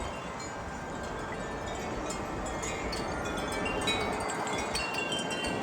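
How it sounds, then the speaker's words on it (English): Wind rushes steadily against the microphone outdoors on a snowy day, a constant broadband roar with faint rustling and no voices. "Oh, yep, another gust."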